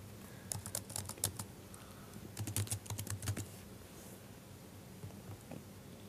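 Computer keyboard typing into a search bar, two quick bursts of clicky keystrokes close to the microphone with a pause between and faint scattered taps near the end.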